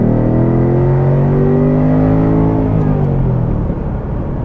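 A 2023 Ford Mustang GT V8 with active exhaust revs loudly up close, its deep burbling engine note rising and then easing off in one sustained pull, with no talking.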